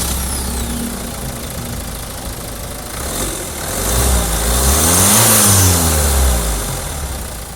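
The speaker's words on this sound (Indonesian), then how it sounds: "sekarang kita pengen dengar dulu suara mesinnya. Jadi kan dia diesel, namun Hyundai memang dieselnya terkenal halus gitu" A Hyundai Santa Fe's 2.2-litre turbo diesel engine runs close by, a steady diesel clatter that swells into a brief rev midway and then settles back toward idle, with no voices.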